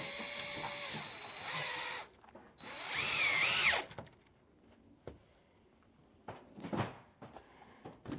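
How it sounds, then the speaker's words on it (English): A power drill whirs in several short bursts, driving screws while building a seesaw for goats, with quieter clicks and handling noises in the pauses between bursts. "I'm using a power tool right now."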